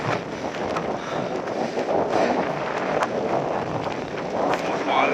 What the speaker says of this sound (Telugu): గాలి.